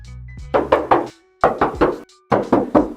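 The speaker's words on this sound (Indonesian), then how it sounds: "kap mesinnya sekarang aku coba tes ketok" Knuckles knocking on the steel engine hood of a Toyota Innova V petrol automatic, three groups of three firm, close hollow raps with short pauses between them and no talking.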